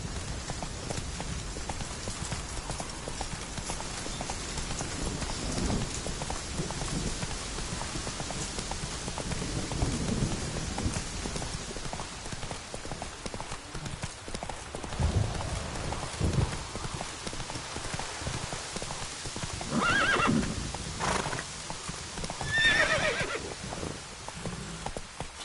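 Roach, the horse in The Witcher 3, gallops through rain, rhythmic hoofbeats steady over a constant hiss of rainfall, with a snort or whinny near the end.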